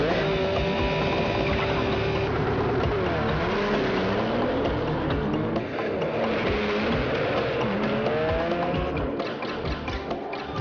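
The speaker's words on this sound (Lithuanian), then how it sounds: "paleidžiame stabdį ir automobilis visą jėgą šauna pirmin" A Porsche 911 Turbo S with 560 horsepower launches hard from a standstill using launch control, its engine roaring loud and close through rising gear sweeps with brief dips at the shifts.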